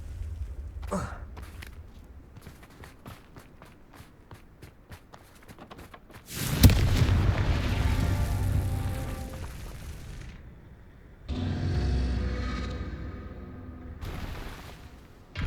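A Confringo blasting spell in Hogwarts Legacy sets off a sudden loud explosion with a sharp crack. A rumbling roar trails for several seconds, and a second roaring burst follows shortly after, with no talking.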